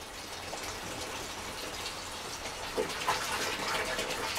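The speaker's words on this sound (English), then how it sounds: "I'm going to add a gallon of water." Water pours steadily into a bucket holding a gallon of wood ashes, a soft continuous gush and trickle heard close by with no talk.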